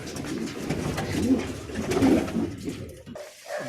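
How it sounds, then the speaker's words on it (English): Birmingham Roller pigeons in a breeding loft coo in low, soft, throaty rolls that swell and fade, close by and continuous, with faint rustling around them. "Very, very good pigeons."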